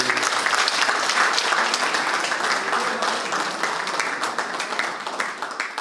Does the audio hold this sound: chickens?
no